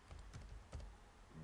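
Faint keystrokes on a computer keyboard: a few soft, uneven clicks under a low background hum, with no voice.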